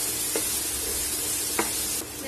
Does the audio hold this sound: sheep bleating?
no